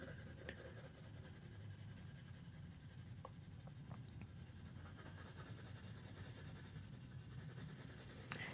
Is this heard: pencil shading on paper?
yes